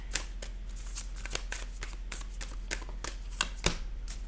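Tarot cards being shuffled and flipped, a close run of dry riffling clicks and slaps in quick irregular bursts, with one sharper snap near the end and no talking.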